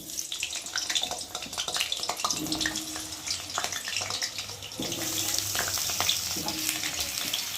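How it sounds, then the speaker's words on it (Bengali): Potatoes frying in hot oil, with a continuous watery hiss and sizzle and occasional stirring scrapes in the pan, fairly close and steady with no talking. "এখানে তেল গরম হয়ে গেছে আর এখন আমি আলুগুলো দিয়ে ভালো করে ভেজে নেব"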